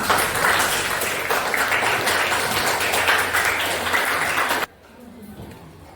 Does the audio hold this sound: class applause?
yes